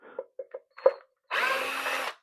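A few short taps, then a power drill whirs for about a second as it unscrews the screws on a Minelab GPX metal detector, close and loud.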